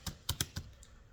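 Keyboard typing at a fastener packing workplace: a few sharp, separate keystrokes in a short irregular burst, close and fairly quiet, with no talk.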